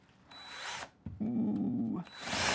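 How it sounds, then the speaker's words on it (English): Power drill boring through a wooden stud for bathroom remodel wiring: two close bursts of whining motor and grinding bit, the second longer and steadier, separated by a brief pause. "drill at a steep angle. I'm gonna correct the angle as much as possible as I go"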